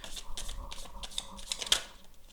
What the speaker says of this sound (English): I think I have to shuffle it this way.